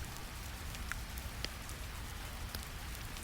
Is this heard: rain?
yes